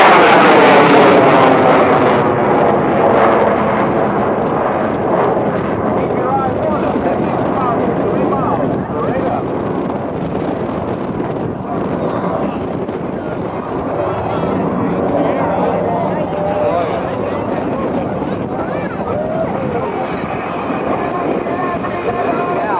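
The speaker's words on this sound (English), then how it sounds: "two superb engines that power this amazing fighter." An F-15E Strike Eagle fighter jet's twin engines roar through a demonstration pass at the 2007 Rhode Island airshow, a loud broad rumble that fades slightly while an announcer talks over it.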